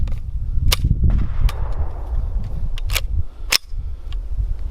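An Intratec Tec 9 pistol fired with a 20 round magazine, giving several sharp, loud shots at irregular intervals over a rumbling outdoor background, with no talk.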